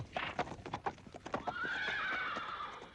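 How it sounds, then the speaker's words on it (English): A single horse gives a clear, drawn-out whinny that sweeps down in pitch, preceded by a rapid run of hoof clip-clops, fairly close and with no talk over it. "Who let that horse in here?"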